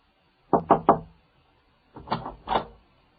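Three quick knocks on a door, a short pause, then a second burst of three louder raps, close and clear against a quiet room.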